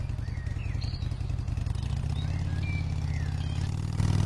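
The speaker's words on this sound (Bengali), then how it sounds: "সন্ধ্যের সময় রিফাত বাইক নিয়ে সেই লাশ ঘরের দিকে রওনা দিল" A motorcycle engine idles and revs with a low, steady putter in a cartoon scene, while faint bird chirps rise above it and the engine swells slightly louder at the end.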